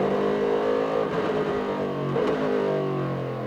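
Race car engine heard from the driver's helmet cam in an American Le Mans Series race in Washington, D.C., rising as the car gets back up to speed, a loud, steady in-cockpit drone with harmonics climbing in pitch.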